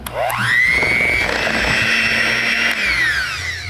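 Blender whipping cream cheese and powdered sugar into a cheesecake base, a loud steady motor whine that ramps up at the start and holds evenly for several seconds, with no talking.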